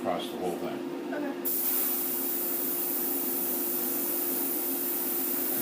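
Spray paint misted onto a model as a first coat, a steady close hiss that starts abruptly and continues unbroken after a short stretch of quieter sound.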